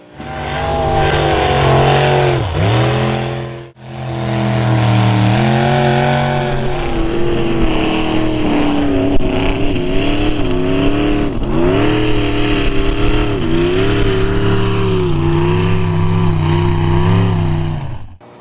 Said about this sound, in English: 543 cubic inch big block Ford. Roughly around 900 horse. Baby goes through the dirt.